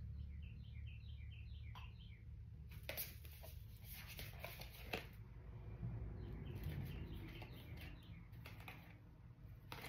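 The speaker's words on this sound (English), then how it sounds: "listen for when birds are chirping" Faint birds chirp outdoors in short, quick clusters of high tweets. The calls are set against a steady low hum and occasional scratchy rustling.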